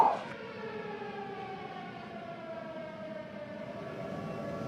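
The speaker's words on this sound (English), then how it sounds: "Yes, I can hear the siren." An air raid siren wails in Ukraine, a steady, distant, rising-and-holding mechanical tone that carries on unbroken through the whole stretch, faint and alone with no talk.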